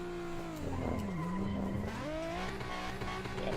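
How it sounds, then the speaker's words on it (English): A Nissan 350Z drifts in tandem at Klutch Kickers, its engine droning with rising and falling pitch under long, continuous tire squeals and skids, loud and fairly close throughout. "We'll do some skids so I can show the bias."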